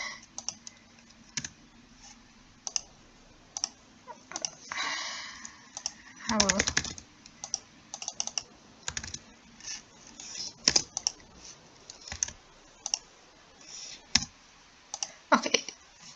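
A computer keyboard is used to type a gene name into a search field: quiet bursts of key clicks, separated by pauses and a short clattering flurry, with soft background hiss.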